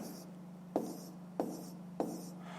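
Pen or chalk strokes sound as three sharp, evenly spaced taps while a fifth-grade math solution is written out, close and quiet over a steady low hum.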